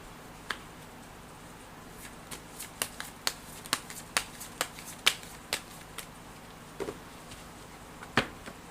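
Tarot cards riffled and tapped, a string of sharp, crisp snaps spaced about half a second apart, close and fairly quiet against a soft room hush, with no talk.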